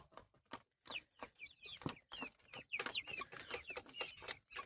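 Chickens cluck in quick, scattered bursts in a broiler poultry shed, the birds about forty-five days old. Several hens call close by over a quiet background, with no talk.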